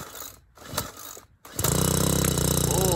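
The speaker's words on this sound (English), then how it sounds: "Choke lever to 1, pull rope 5 times." Small gas garden engine started by pulling the starter rope: a few rough pulls, then the engine catches and runs at a loud, steady buzzing drone close by.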